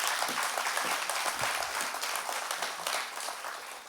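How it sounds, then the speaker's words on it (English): Audience applause at the opening of a university school of business, a dense, even patter of many hands clapping, moderately distant and sustained, tapering slightly toward the end. "Please give him another round of applause."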